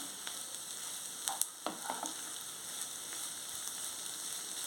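Amaranth leaves fry with coconut chili powder in a pan, giving a steady soft sizzle with a few light scraping stirs near the start. No one speaks over it.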